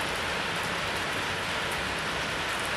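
Steady night rain pours down in a dense, even hiss, unbroken and constant, with no voices.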